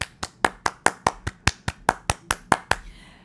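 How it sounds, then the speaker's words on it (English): One pair of hands claps about a dozen times at an even, brisk rhythm, each clap sharp and close, then the clapping stops and a short quiet tail follows. "Let's give a round of applause to the Cleveland Browns right now"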